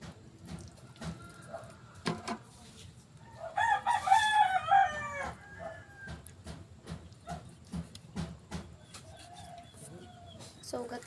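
A rooster crows loudly in the middle, with scattered chicken clucks and bird calls before and after, close by and alone.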